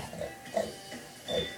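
A person imitates a pig's oink with three short, nasal grunts spaced about half a second apart, fairly faint and close, with no other sound around them.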